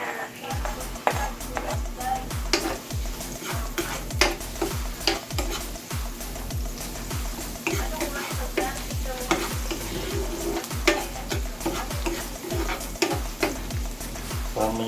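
Garlic sizzles and crackles in a hot pan, scraped and stirred in quick regular strokes that tap and rattle against the metal. A voice is faintly audible beneath the cooking.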